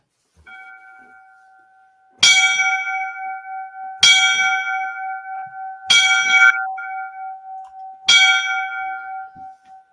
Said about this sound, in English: So let's do the 5 bells for the line of duty.